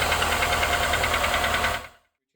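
A Honda Accord engine with noisy valves runs steadily and close, giving a rhythmic ticking clatter over a low hum. It cuts off abruptly after about two seconds, then there is silence.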